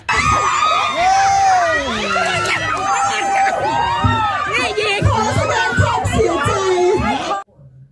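Crowd of children and adults cheering and shouting through a musical chairs game at a Songkran festival held at a Thai temple in Austria, continuous lively yelling and excited voices, loud and close, cutting off abruptly at the end.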